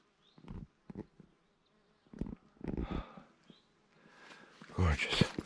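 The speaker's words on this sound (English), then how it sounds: "Hear all the bees a-buzzing and the rhododendrons." Bees buzz around rhododendrons in bloom along the Appalachian Trail, a faint intermittent hum heard between and under a hiker's speech.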